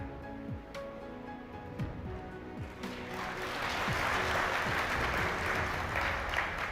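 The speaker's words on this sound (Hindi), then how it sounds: "अब आप लोगों ने ये तालियां क्यों बजाई हो मुझे बताएं।" A lecture audience breaks into applause, a dense crackle of many hands that starts sparse and swells louder from about three seconds on, filling the rest of the moment without speech over it.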